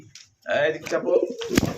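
A pair of pouter pigeons, a red male and a black female, cooing close up in soft, throaty bursts, with a voice talking over them.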